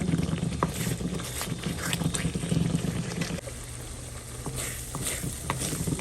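Food frying in a pan at home in a Bangladeshi kitchen, a steady close sizzle and crackle with occasional stirring clinks, continuous throughout with no talk.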